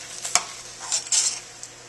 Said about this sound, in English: we're using the slotted spoon, and we're going right into our ice bath